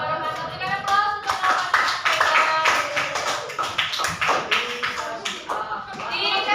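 Applause from a school or teacher-training audience in Indonesia, steady clapping with a raised voice carrying over it throughout.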